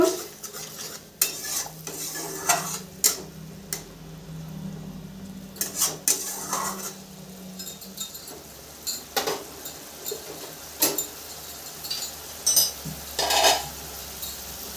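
Masala for a katla fish and poppy-seed curry being sautéed and stirred in a pan, with repeated scraping strokes of a spatula and clinks against the metal over a low sizzle, up close and with no talking.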